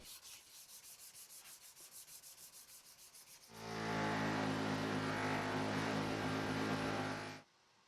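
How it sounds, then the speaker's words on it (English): A walnut knife handle on a Serbian-style cleaver is hand sanded in quick, even back-and-forth strokes, close and rhythmic, before a loud steady motorized roar takes over for several seconds and then cuts off. "I hand sanded up to 600 grit"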